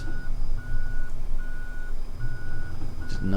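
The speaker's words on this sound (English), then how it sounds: "Didn't know this had a backup alarm on it." A vehicle's backup alarm in Farming Simulator 17, five evenly spaced electronic beeps repeating steadily over engine rumble, loud and close.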